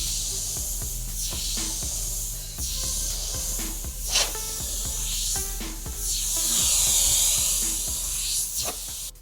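Airbrush spraying paint in short and long bursts during a spray test on a beginner airbrush, a close airy hiss that starts and stops repeatedly over a low steady hum, with no talk.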